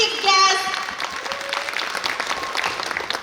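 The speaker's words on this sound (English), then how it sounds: "a wide big round of applause to our honorable chief guest" Applause greeting the honorable chief guest at a Kerala Samajam golden jubilee celebration, a warm burst of crowd clapping that starts under a brief voice and carries on steadily, fairly loud, with the hall's echo.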